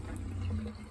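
Water runs in a steady, moderate stream from the cold side of a kitchen faucet in a Keystone Premier RV during winterization, heard close up with no talking.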